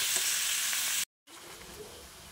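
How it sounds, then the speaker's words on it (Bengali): Kohlrabi and potato pieces frying slowly in oil give a broad, steady sizzle close by, broken by a brief moment of silence before the hiss resumes slightly softer. "ওলকপি আলুটা যেন আস্তে আস্তে করে ভাজবে, যাতে ভাজতে ভাজতেই যেন সিদ্ধ হয়ে যায়।"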